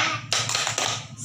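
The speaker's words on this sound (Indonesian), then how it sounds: "Tepuk semangat." A primary-school class claps together in a quick rhythmic ice-breaker pattern, a handful of sharp, close bursts of clapping with no voices between them.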